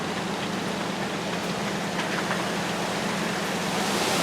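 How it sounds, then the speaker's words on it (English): Wind and rain from Hurricane Milton roar as a dense, constant hiss of driving rain and gusts, steady and loud throughout with no voices. "you can hear the wind and rain"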